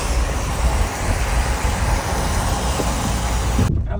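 Steady road and engine rumble from a car driving near Lake Como, Italy, constant and close, cutting off abruptly at the end.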